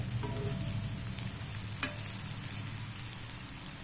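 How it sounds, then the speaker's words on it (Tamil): Thin brinjal slices fry in hot oil with a steady, close sizzle and crackle throughout, plus a couple of brief scrapes or stirs, and no talking. "நல்லா பாருங்க மீன் வறுக்கிற மாதிரியே இருக்குது"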